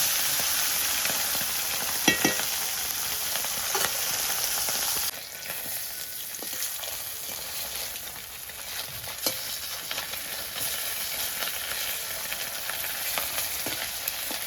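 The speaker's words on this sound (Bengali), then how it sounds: "ভালো করে হালকা করে, বেশি কড়া না, ভেজে নিলাম।" Dhela fish fries in hot oil a few pieces at a time, giving a continuous close sizzle with occasional crackles and a brief shift in intensity partway through.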